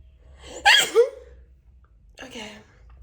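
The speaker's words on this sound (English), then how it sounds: "I need to sneeze." A person lets out a single loud, close sneeze, followed a moment later by a softer breathy vocal sound.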